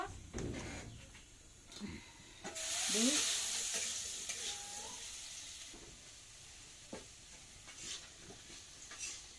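Potatoes fry in a pan at home, a continuous close sizzle with stirring scrapes and a louder surge of hissing midway before settling back to a quieter crackle.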